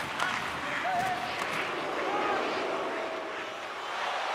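A video-game hockey arena crowd jeers a visiting player, a steady broad roar of boos and noise from the home fans, fairly far and diffuse, with a brief thin whistle-like tone riding over it.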